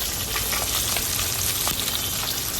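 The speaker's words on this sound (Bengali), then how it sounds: "ঠিক সেইভাবে মাছের মাথাটাকে ভাজতে হবে" Hilsa fish heads deep-fry in hot oil in a pan, a loud, continuous crackling sizzle with scattered sharp pops, close and alone without talk.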